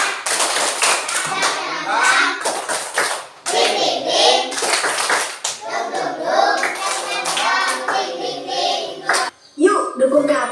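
Children clapping a rhythmic spirit chant (tepuk semangat) in a classroom, bursts of patterned claps mixed with their chanting voices and an adult leading, loud and close with brief pauses between phrases.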